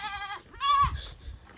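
Farm goats bleat close by, two drawn-out wavering cries separated by a short pause, with soft rustling and low shuffling underneath.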